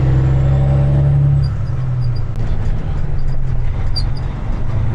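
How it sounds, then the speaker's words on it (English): A loud roll-off truck engine roars close by with a steady low rumble, the pitch dropping slightly partway through, with no talk over it. "I like to hear the truck. I like to hear the engine roar"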